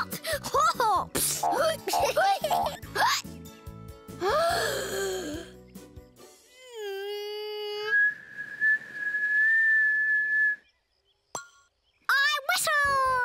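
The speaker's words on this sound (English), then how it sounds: "I whistled!" A cartoon bunny whistles, a long clear rising then steady tone after a burst of lively squeaky character vocal sounds, ending with a brief silence and a short cheer.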